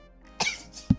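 A single sharp sneeze bursts out close by, a quick breathy intake followed by an abrupt explosive release, brief and alone with quiet room tone around it.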